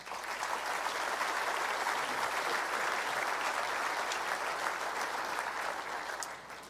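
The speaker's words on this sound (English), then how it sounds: "So please, let's give all the sponsors and organizers a round of applause." Sustained applause from a large audience at the 2018 New Brunswick State of the Province Address, dense even clapping that holds steady for several seconds without pause.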